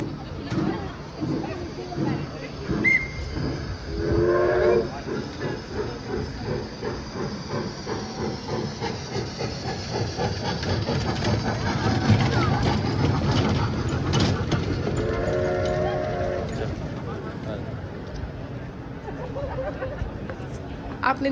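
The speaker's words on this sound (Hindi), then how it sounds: "अब ये देखिए ट्रेन चलने लगी है" A passenger train pulling away, a low rumble and hiss building gradually with rising mechanical clatter, heard from nearby with a person talking over much of it.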